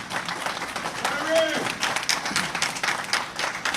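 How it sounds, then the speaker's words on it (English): Audience applause at a firearms forum, a busy burst of clapping that continues steadily through the short clip, with a faint voice briefly rising within it. "So give my brother a round of applause."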